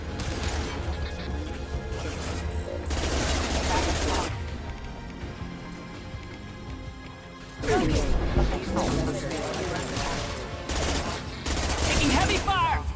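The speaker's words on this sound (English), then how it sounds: "Taking heavy fire!" Heavy gunfire in Mass Effect 2 comes in loud, dense bursts separated by quieter stretches, with crashes and clanks between them and voices speaking throughout.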